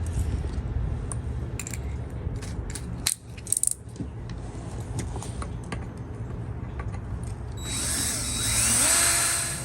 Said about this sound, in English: we're gonna have to drill that out completely